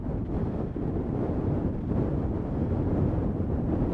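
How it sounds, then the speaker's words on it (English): Wind gusting across an open golf course, a dense low rumble of buffeting against the microphone that holds steady and loud throughout, with no talking. "Wow, that wind."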